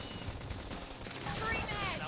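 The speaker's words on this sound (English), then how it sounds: "Opportunity knocks. Topple him with gunfire." Rapid gunfire rattles in a sci-fi action game, a dense sustained volley layered with game effects and music, with a voice speaking over it.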